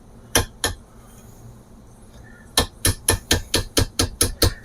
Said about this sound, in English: I've got the bushing pinched in the vise, and then I just have a little punch here that I think will work.